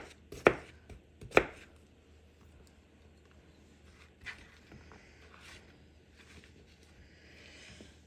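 A few sharp knife chops cut through an English cucumber on a cutting board, two loud strokes early on and then quieter scattered taps with a faint hiss of room noise.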